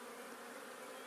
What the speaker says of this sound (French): Les abeilles, là, elles sont très excitées.